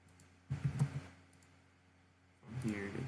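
Computer mouse buttons clicked during CAD work: two short bursts of light clicks, one early and one at the end, faint and close against a quiet background, with a voice partly over them.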